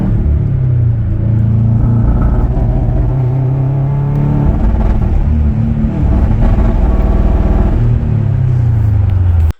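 A 2008 Subaru Forester XT with a 5-speed manual, stumbling from spark blowout, rumbles loudly and continuously under load. Its engine tone wavers and sags as it accelerates, with no one talking.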